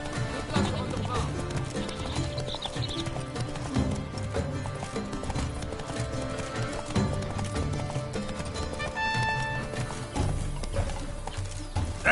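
Geralt's horse Roach in The Witcher 3 gallops with a steady, continuous clip-clop of hooves under game music and ambience, a faint neigh briefly rising near the end.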